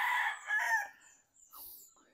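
A white Kelso gamefowl rooster, a street-breed brood stag eight months old, crows once, loud and close, its drawn-out call lasting under a second, with a fainter trailing bit afterward.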